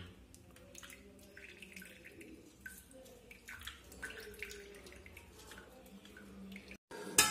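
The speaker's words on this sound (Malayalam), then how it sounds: "നാരങ്ങ നീര് നമുക്ക് ഒഴിക്കാം ഒരു ഫുൾ നാരങ്ങ" Soft, steady trickling and dripping of a whole lemon's juice being squeezed and poured over chicken close by, continuous and quiet, ending with a brief louder splash, no talking.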